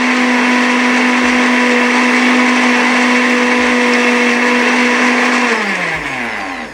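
A blender whirs loudly and steadily blending coconut meat juice, then its motor winds down near the end.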